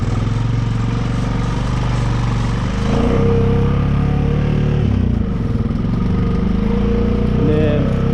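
A Can-Am 650 ATV four-wheeler engine drones in first gear and two-wheel drive, a steady close rumble that swells slightly with throttle, while someone talks over it.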